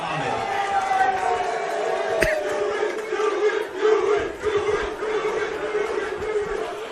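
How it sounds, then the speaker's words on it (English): A stadium crowd at a Victoria versus Queensland men's football match roars and cheers as a player comes onto the field, a loud swelling mass of voices with a sharp crack near the start and chatter beneath. "they rise in appreciation as Yusuf Ahmed enters the fray."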